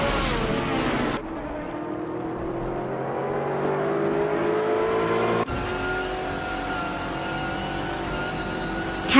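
Racing car engines at the start of a video game race, a classic 2001 BMW on pole, roaring loud and continuous with an abrupt cut and a shift in tone midway.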